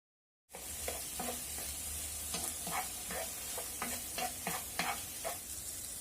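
Lady's finger (okra) fry sizzles in a pan after a moment of silence, with repeated scraping stirs of a spatula giving a loose rhythm over the continuous hiss.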